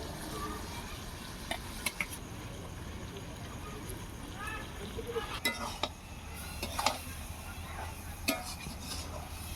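Goat tripe stirred with ground cumin and dried red chilli paste in a hot pan, village style, giving a steady soft sizzle with scattered scrapes and clinks of the spoon against the metal.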